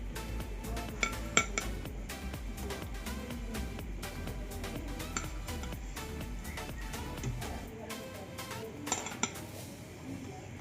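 Freshly fried, browned evening snacks are moved out of the pan onto a plate, with repeated metal utensil scrapes, clinks and clatters against cookware and dishes over a low steady background, no talking.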